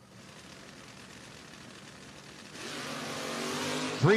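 Drag racing cars, including a Mustang, at a no-box 660 shootout, a rumbling idle that swells into a louder engine roar as they launch, with a sharp squeal at the end.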